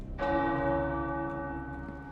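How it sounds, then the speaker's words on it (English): A single deep bell strike in the game Marvel's Midnight Suns, ringing out with a long resonant hum that slowly fades, fairly loud and heard alone without speech. "There's the bell."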